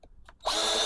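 A cordless drill whirs up to speed and runs steadily at close range after a few brief clicks and handling noises.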